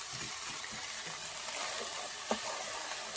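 Onions frying in olive oil in a non-stick pan give off a steady, close hiss, with one sharp utensil knock partway through and no voices.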